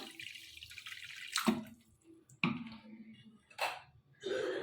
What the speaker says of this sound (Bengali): কড়ার মধ্যে আমি পরিমাণ মতো জল দিলাম